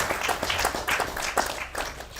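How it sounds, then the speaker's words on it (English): Brief applause from mourners at a celebration of life, a short patter of clapping lasting about two seconds, fairly close and moderate in level. "let's give him a round of applause"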